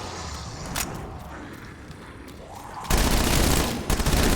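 Pistol fire from the zombies video game Die Maschine: scattered sharp shots early, then a sudden loud sustained burst of rapid gunfire and explosions dominating the last second and a half.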